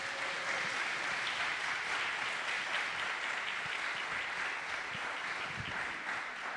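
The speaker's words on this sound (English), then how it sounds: "Otro round of applause," Steady audience applause fills the room after a live music performance at an informal community gathering, a dense even wash of clapping held throughout without pause.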